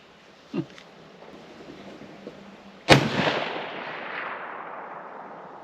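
A single sharp rifle shot from a 6.5 Creedmoor Savage 110 Desert Tactical, loud and close, followed by a long rolling echo that fades slowly; a fainter softer thump sounds a couple of seconds earlier.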